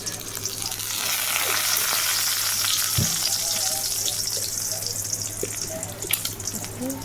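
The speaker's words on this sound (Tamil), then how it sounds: "வந்துட்டு உப்பு தூள் இல்லை, அதில் வந்து உப்பு தண்ணி ஊற்றி கொள்கிறேன்." Egg curry sizzles and fries steadily in a pan while salt water is poured in, giving a continuous close hiss and bubbling with faint knocks, and a voice speaks lightly over it.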